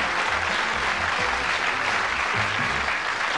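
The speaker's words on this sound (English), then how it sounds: "Give them a round of applause as we go off." A studio audience on the television game show Bullseye claps steadily in a dense, even burst of applause lasting a few seconds, with no voices over it.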